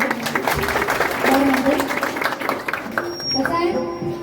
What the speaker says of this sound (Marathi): भुवनसाठी म्हणजे का जोरदार टाळ्या बोलणार